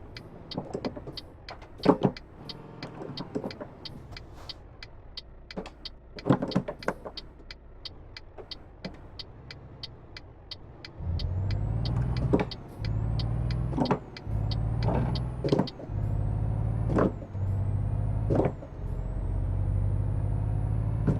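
A truck in Euro Truck Simulator, first a run of regular clicking and ticking, then a diesel engine starting up and revving in repeated rising pulls with gear changes, loud and close.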